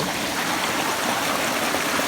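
A forest stream in the Konkan jungle rushing steadily over rocks, a dense unbroken wash of water noise, close and loud with no voices.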